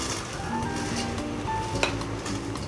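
Sticky rice goes into a metal steamer pot over boiling water, with a constant bubbling hiss and light scraping and clinks of utensils against the pot, close by.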